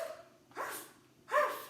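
Children's voices imitate a dog barking in a drama session, giving two short, bright bark-like calls separated by a pause, close and fairly quiet.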